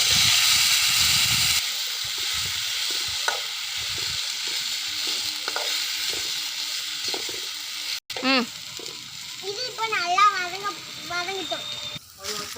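Mushrooms poured into hot oil with mustard seeds, giving a loud hissing sizzle that starts strong and then settles into quieter crackling. Someone talks and a child chimes in over the frying.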